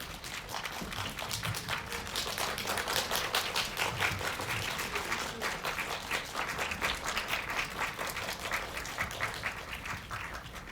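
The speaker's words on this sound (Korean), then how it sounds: "박수로 환영해 주세요" An audience at a Seoul Independent Film Festival screening of the film 'Baseball Girl' applauds to welcome the director and cast, dense steady clapping sustained throughout with no speech.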